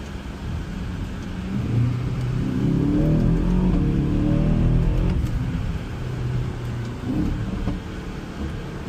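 Aston Martin DBX707 engine burbling and rumbling steadily at close range, a low throaty drone that swells slightly in the middle, with no talking.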